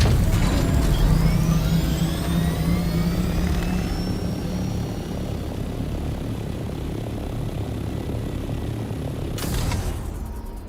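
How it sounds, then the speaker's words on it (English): In the video game Dune: Awakening, a helicopter-like craft gives off a loud, steady rotor and engine roar that holds for the whole stretch with no talk. "Can I get in my copter"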